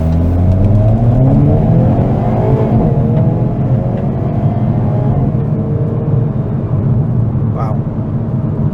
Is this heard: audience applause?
no